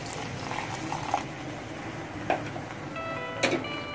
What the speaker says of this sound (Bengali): এবার এতে দেবো অল্প একটু জল